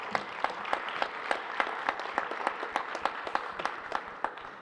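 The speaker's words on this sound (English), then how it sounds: "Please give everybody another round of applause." An audience applauds at an honors and recognitions ceremony, sharp claps forming a steady, moderately loud ovation that holds through the whole stretch.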